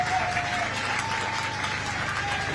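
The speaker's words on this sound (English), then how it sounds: "Taking the applause from the appreciative crowd here at Braidholme, home of GHA Rugby." An appreciative crowd at a rugby ground applauds a replaced player leaving the pitch, steady clapping carried from a distance with a faint whistle tone running through it.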